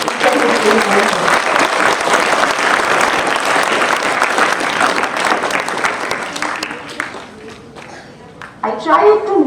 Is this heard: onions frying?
no